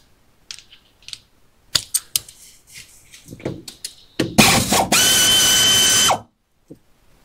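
Power tool removing brake line brackets during a ball joint replacement, several short rattling impact bursts and clicks, then a loud sustained whirring run of about two seconds that stops abruptly, close by.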